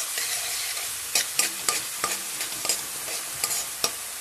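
Chopped vegetables frying in a pan for fried Maggi get stirred with a spatula: a steady sizzle broken by repeated sharp scraping strokes at an uneven rhythm, close up and without speech.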